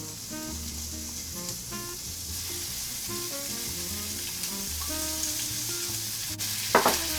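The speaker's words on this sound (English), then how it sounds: "That's going to be the fat that I cook my onions and my garlic in." Onions and garlic frying in rendered fat for a single serving of shakshuka, a soft steady sizzle with intermittent stirring and scraping strokes, plus a sharper clink near the end.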